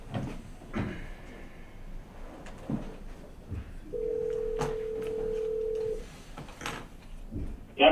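A telephone on speakerphone at a board of education meeting, dialing out with a steady tone held for about two seconds among short beeps and clicks, faint room shuffles beneath, no talking.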